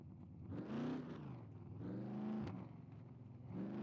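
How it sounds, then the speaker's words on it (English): A car engine in the SCUM video game revs repeatedly in a rising and falling pattern, three or four swells of revving, close and fairly quiet, with no talk. "So we're just revving the engine,"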